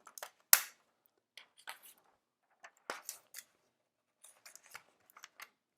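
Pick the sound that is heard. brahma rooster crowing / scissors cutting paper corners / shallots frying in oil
scissors cutting paper corners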